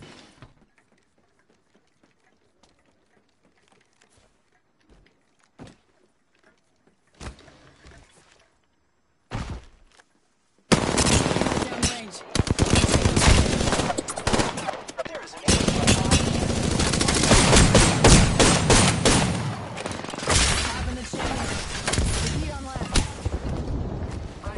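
Sustained gunfire from the Apex Legends video game, heavy rapid bursts with booming impacts erupting loudly after a quiet opening of sparse clicks and brief shots, continuing densely to the end.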